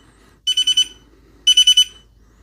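A MUSTOOL MT-29 air quality meter alarm beeps in two bursts of four rapid, high-pitched tones, with a short silence between them.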